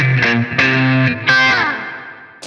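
An electric guitar played through a wah pedal in a live rig sounds a few sustained, distorted notes and chords with sweeping vowel-like tone shifts and echoing tails, close and loud with no talking.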